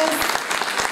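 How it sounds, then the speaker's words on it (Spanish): Audience applause at a higher education congress presentation, a dense continuous patter of many hands with voices faintly mixed in, steady and fairly loud through the short stretch. "vamos a dar otro aplauso a esas damas."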